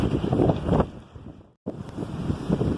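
Strong winter wind storm in Michigan, a loud, roaring gusty rush buffeting the microphone, briefly cutting out before resuming at full force.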